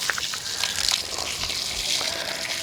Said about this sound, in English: This is actually siphoning because I'm so much lower than the tank